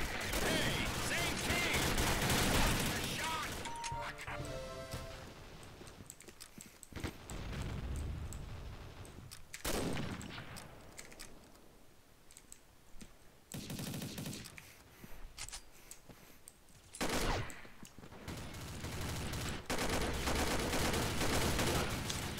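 L9 rifle fire in the online shooter Combat Arms, with bursts of rapid automatic shots and booming explosions recurring over a noisy match, loud and close, while a player talks in places.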